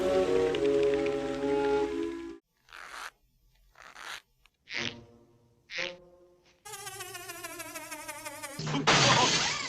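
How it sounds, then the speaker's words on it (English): A rotating rain machine loaded with finishing nails on strips and handfuls of Mexican peas gives short bursts of pattering, rattling hiss, separated by pauses, alongside clearer tonal sounds before and after. "This is a rain machine. I have it just loaded in there with little finishing nails, nailed all on strips, and then a couple hands full of Mexican peas."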